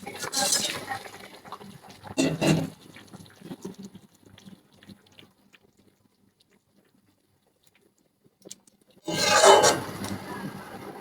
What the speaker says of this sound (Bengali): এখন আগে থেকে বেঁচে রাখা ট্যাংরা মাছগুলো আমি ছেড়ে দেবো